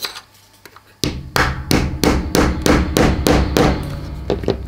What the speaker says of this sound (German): Mit dem Hämmerchen hier.